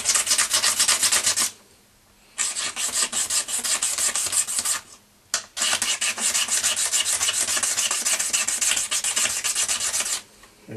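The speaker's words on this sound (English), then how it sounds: "And I scrape it. I don't use sandpaper." Hand scraping of wooden beehive frames gives a loud, rapid rasping scrape, repeated in long bursts with two short pauses, close and alone.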